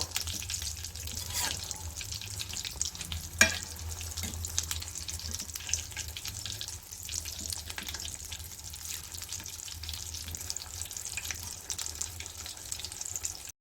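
Masala aloo bonda deep-frying in hot oil, giving a steady, fairly quiet sizzling hiss with small crackles throughout and one sharp click partway through.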